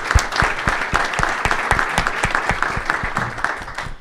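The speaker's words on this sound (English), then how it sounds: "let's give a round of applause to our moderators and our panelists" A roundtable audience at a chamber of commerce event applauds moderators and panelists, with a moderately sized crowd giving a steady round of clapping in which individual nearby claps stand out.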